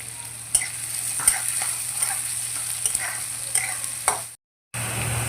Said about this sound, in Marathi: आणि आता ह्यात आपण कांदा टाकून व्यवस्थित परतून घेऊ। कांदा टाकून ब्राऊन होईपर्यंत परतून घ्यायचा आहे कांदा।